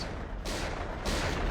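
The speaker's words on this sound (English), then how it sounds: "Those gunshots as it zoomed in." Two sharp gunshots ring out about half a second apart in a scene from the 1996 film The Cable Guy, each a loud burst over a low background.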